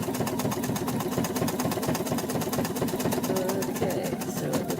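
A sewing machine running satin stitching for appliqué, a fast continuous mechanical whir with a steady rapid needle rhythm, loud and close throughout, with a voice talking over it.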